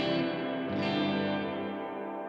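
A Chase Bliss CXM 1978 reverb pedal on its room setting swells into a long, dense lower-midrange bloom, a sustained reverberant wash that stays loud and steady before thinning slightly toward the end, with no voices.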